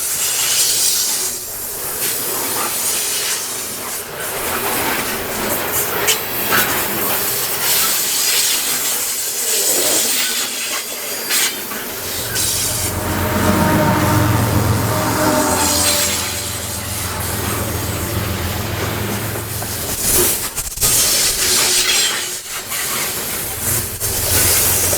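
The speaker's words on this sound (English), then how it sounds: "the train came around the corner with a Jevo in the lead" A Canadian Pacific freight train led by a GE Evolution-series locomotive rolls past outdoors on the Windermere Subdivision, a steady loud rumble and hiss of wheels and engine building midway with a deep low drone, no talking.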